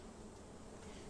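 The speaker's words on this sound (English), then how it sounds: "I'll brush these worker bees away" Honey bees buzz steadily during a brood box inspection, a dense continuous hum close to the hive with no pauses or talk.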